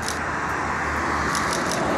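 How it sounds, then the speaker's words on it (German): Steady road rumble and tire noise from inside a moving car, a continuous dense hiss with low engine drone throughout, nobody speaking. "Ich sitze jetzt gerade im Auto und fahren jetzt nochmal zur Wache"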